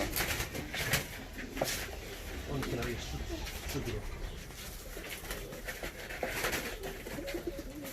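Male ornamental pigeons cooing in a loft in Adıyaman, Turkey: repeated low, rolling coos under a busy wash of flapping, shuffling loft noise, with people talking in the background.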